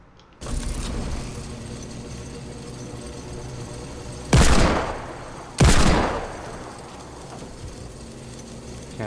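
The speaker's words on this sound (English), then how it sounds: "Still shooting." Gunfire in the Fortnite video game over a steady hum of game ambience, with two loud, broad bursts of shots a second or so apart standing out clearly near the middle.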